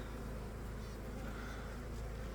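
A dense, steady hum of a live honey bee colony buzzing during treatment against mites, close and continuous with no pauses.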